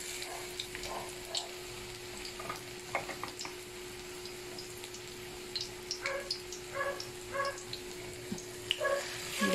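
A shrimp omelette (tortang hipon) fries in hot oil, with soft, scattered sizzles and pops over a constant low hum in a home kitchen.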